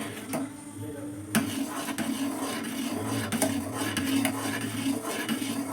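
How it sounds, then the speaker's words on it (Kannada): Spoon scraping and stirring a thickening custard mixture in a metal pot, a steady close rasping rub with occasional sharper knocks against the pot, no talk. "ಈ ಥರ ಬಿಡ್ದಿರಾನೆ ಚೆನ್ನಾಗಿ ಮಿಕ್ಸ್ ಮಾಡ್ತಾಯಿರಿ."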